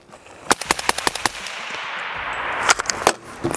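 Rapid semi-automatic shots from an AR-15 rifle with a tuned gas block and buffer, about a dozen sharp, loud reports in quick uneven succession, with a short pause partway through and no talking.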